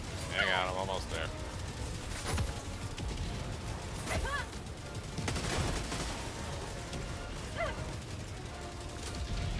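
Helldivers 2 gunfire crackles through a chaotic firefight as repeated sharp shots and bursts over steady rumbling, moderately loud, with voices shouting now and then amid the action.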